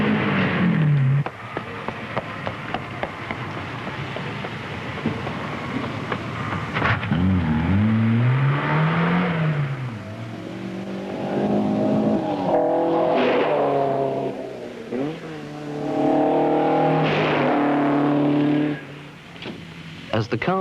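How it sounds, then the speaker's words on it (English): Rally cars from the 1976 Tour of Mull race along narrow, twisting island roads, engines revving and rising in pitch as they pass close by, with a voice talking over the sound. "As the cars make their way around the narrow, twisting island roads for the second time"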